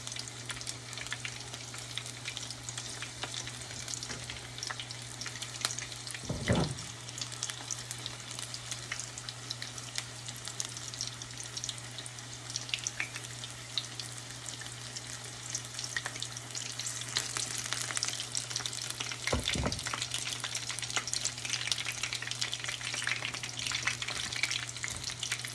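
Corn fritters fry in hot oil with a steady close sizzle, broken by a couple of sharp, distinct pops several seconds apart, with no talking.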